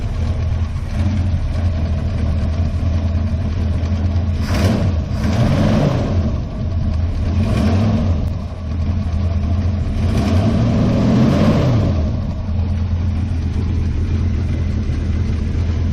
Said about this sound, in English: Sounds like it's got a little bit of an exhaust leak up here somewhere